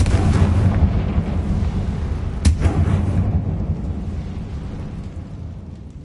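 Confringo fire spell blasting in Hogwarts Legacy: a dense rumbling roar with one sharp loud burst near the middle, then a decaying boomy tail fading away, no talk.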